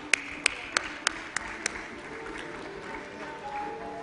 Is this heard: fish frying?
no